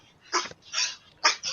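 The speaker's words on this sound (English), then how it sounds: "No, that's my dog. One of the dogs." A dog gives three or four quick, sharp barks in close succession, near and fairly loud, with brief silences between them.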